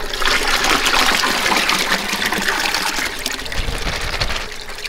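Bait fish such as shiners and water are dumped from a container into a bass pond, a loud, steady splashing gush of pouring water that runs for several seconds without a break.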